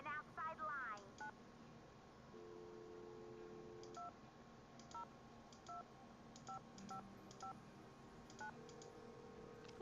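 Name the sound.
telephone keypad dialing tones in the video game Nancy Drew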